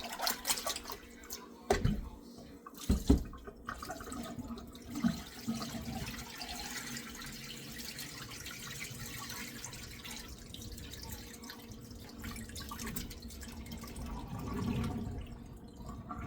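A kitchen tap runs over raw chicken breast being washed, a steady close hiss of flowing water with splashes and drips, a few louder knocks early on, and no voice heard.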